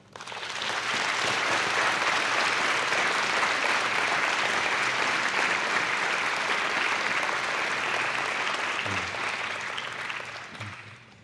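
A graduation ceremony audience breaks into long, even applause for family and supporters, a broad roar of many hands rising quickly, holding steady for about ten seconds, then tapering off with a few low sounds near the end.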